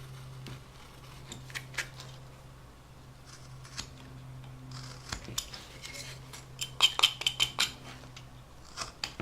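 A carving knife shaves wood on a relief carving of a hiker, producing intermittent close scraping and crisp snicking cuts, a quick cluster of short strokes near the end, over a low background hum.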